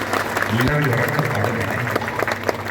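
Audience applause at a village temple yajnashala gathering in Idukki, steady clapping from a crowd running throughout, with a voice speaking over it near the start.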